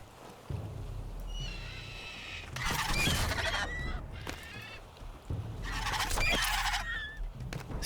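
Birds in a survival video game let out two bursts of loud, goose-like honking and squawking, each lasting over a second, set apart by quieter gaps over a low steady background hum.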